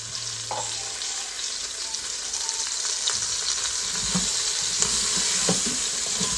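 Onions and celery frying in a tablespoon of olive oil for a pot roast, a constant close sizzle with a few light knocks and stirs over it, the hiss growing slightly louder near the end, no speech.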